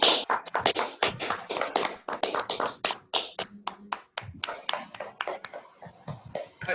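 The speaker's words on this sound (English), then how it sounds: "I request everyone to unmute your mic for a few seconds and give them a big" Online meeting participants clap with mics unmuted, a dense, uneven patter of many separate claps arriving through different microphones, fairly quiet and compressed, lasting several seconds.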